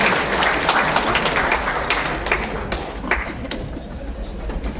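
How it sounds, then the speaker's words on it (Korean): A crowd at a book launch in a national assembly museum hall claps loudly to welcome a guest; dense, sustained applause with sharp individual claps near and far, fading somewhat toward the end. "큰 박수 부탁드리겠습니다"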